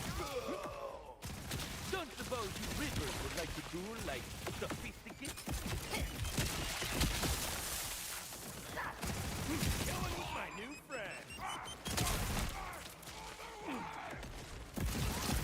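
Video game gunfire from a worn, beat-up gun in Borderlands 4, a dense, continuous stream of rapid shots and clattering weapon effects filling the whole stretch, loud and busy, with brief gaps where the firing stops.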